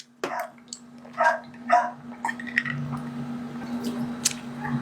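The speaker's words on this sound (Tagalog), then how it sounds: "kaya maingay yung mga lalaking aso" A few male dogs bark nearby during a barbecue, spaced out and uneven, followed by quieter yips over a constant low hum.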